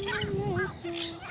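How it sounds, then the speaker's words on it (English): A couple of blackbirds call outdoors in Gulfport, Florida, giving two drawn-out, tonal calls separated by a short pause, fairly near and clear. "Couple blackbirds over there."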